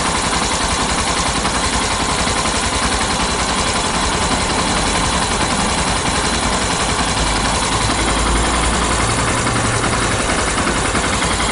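A car engine idles steadily during a charging system test with the battery disconnected, a continuous low rumble and broadband hum holding level and close throughout, with no talking.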